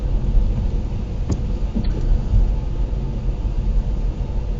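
A car driving along a practical driving exam route in Chernihiv, with a steady low engine and road rumble heard from inside the cabin throughout, at a moderate level with no talking.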